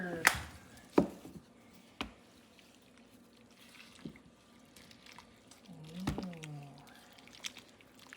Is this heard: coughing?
no